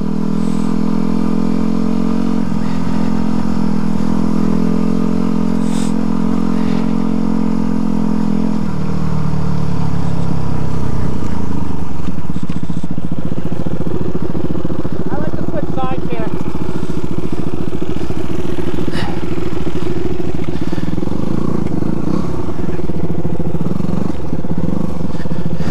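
A Yamaha WR250R dual-sport motorcycle rides a gravel trail, its engine droning loudly and steadily near the mic, shifting in pitch partway through, with gravel crunch and wind noise beneath.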